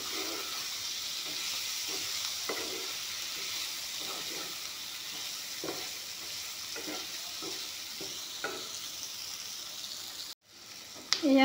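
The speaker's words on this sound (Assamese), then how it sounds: "এতিয়া জুইটো একেবাৰে কমকৈ দি এইখিনি ধুনীয়াকৈ ভাজি ল'ম।" Ground cumin and paneer frying in a pan over very low heat give a steady, close sizzle throughout, with soft scraping stirs, a brief drop near the end, then a few louder clatters.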